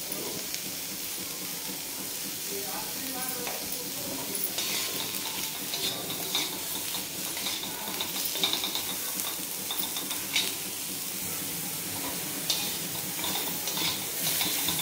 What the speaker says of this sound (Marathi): म्हणजे आपला कांदा पटकन भाजला जातो